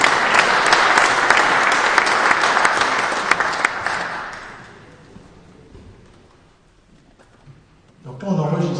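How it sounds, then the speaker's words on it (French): An audience at a sports tournament draw claps loudly for several seconds. The applause fades to scattered claps and near silence, then a voice begins speaking. "il est applaudi là-dessus"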